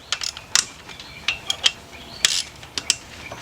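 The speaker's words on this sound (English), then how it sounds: "you're just gonna pop all the 10 millimeters" A ratchet wrench breaks loose 10 mm bolts on the timing cover of a Kia or Hyundai engine during a timing chain replacement, sounding as close, sharp metallic clicks and clacks in irregular short bursts.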